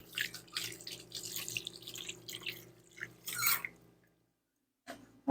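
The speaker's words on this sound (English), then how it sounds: "Wash my fingers off." Tap water runs and splashes over fingers at a kitchen sink while making a no-bake strawberry cheesecake, a close, fluctuating hiss that cuts off abruptly, followed by silence and a short clatter.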